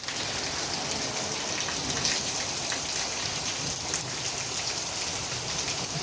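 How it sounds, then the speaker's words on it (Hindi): Heavy stormy rain pouring at night, a dense continuous hiss of drops hitting surfaces, loud and close, with no voices. "इतनी खतरनाक तूफान बारिश होने लग गई गाइस रात होते ही, देखिए।"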